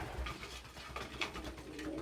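Soft, close cooing from a pet pigeon, low repeated murmurs lasting about two seconds in a quiet room.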